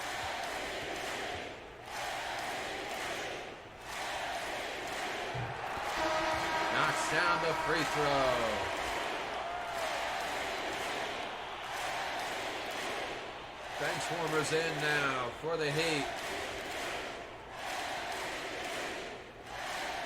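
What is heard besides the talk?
crowd cheering for Shaquille O'Neal at basketball game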